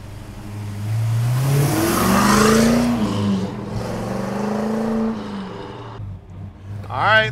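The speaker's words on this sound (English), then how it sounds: "All right, let's take this Olds for a ride." A 1970 Oldsmobile 442 Hurst tribute revs and accelerates on a drive, its V8 note rising and falling loud and close before a brief lull and a sharp final rev.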